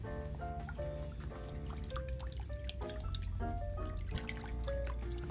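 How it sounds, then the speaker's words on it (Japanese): Coffee-dyed cloth, fresh from a coffee-grounds plant-dye bath, gets a light rinse with water in a kitchen, giving steady close dripping and trickling water throughout. "軽く絞って軽く水洗いします。"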